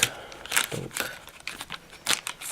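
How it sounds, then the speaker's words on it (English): Plastic packaging of BLMA model railroad signals crinkles and snips as scissors cut through it in several short, uneven bursts, close by. "So let me get this with the scissors."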